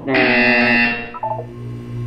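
A harsh electronic buzzer in Portal 2 blares loudly for about a second, then drops into a brief warbling tone over a steady low hum, with no talk.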